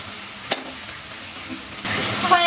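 Taki fish sizzling in a hot frying pan, a steady quiet hiss of oil with a brief clatter early on, then growing louder and brighter toward the end, with no voices.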